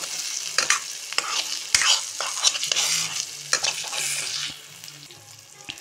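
A spoon stirs spring onion and egg curry in a hot pan, with close scraping strokes over a soft sizzle that fades toward the end.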